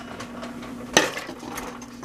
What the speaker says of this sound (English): And then we're going to put the pot back